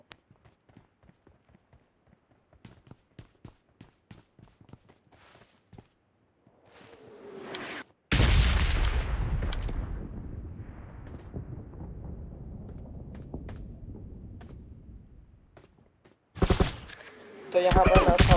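PUBG gunfire starts as a string of faint, distant single shots, then grows into a loud close burst of rapid automatic fire that fades over several seconds, followed by another sharp volley near the end.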